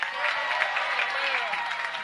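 An audience at an election-night event in Corrientes claps steadily in a dense, sustained round of applause, with faint crowd murmur underneath.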